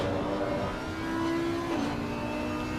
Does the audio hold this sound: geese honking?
no